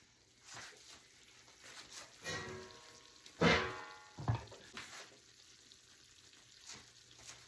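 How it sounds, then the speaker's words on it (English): Pumpkin and cheese pasta sauce bubbling and popping in a pan, soft gurgles with a few louder bursts and spits, close by and without talk. "As you can see, it is boiling. It is like popping."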